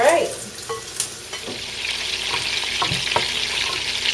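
Meatballs brown in hot olive oil in a pan, a steady close sizzle with occasional soft clicks and stirring taps, no voices over it.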